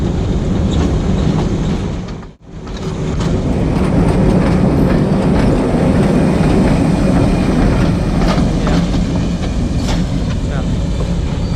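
The 12 Down Hazara Express pulling out of Havelian railway station, a steady loud rumble and clickety-clack of wheels and carriages rolling past nearby, continuous throughout with a brief dip early on.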